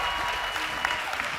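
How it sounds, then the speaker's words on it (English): An audience at a hair show applauds hairdresser Ryan, a short burst of dense, steady clapping from a sizable crowd at close range with a faint murmur beneath. "please give Ryan a great round of applause"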